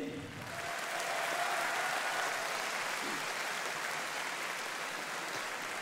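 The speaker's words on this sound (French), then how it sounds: "Vous les applaudir." A live audience at the Trackmania Cup 2017 final gives sustained, dense applause that holds at a steady level for several seconds.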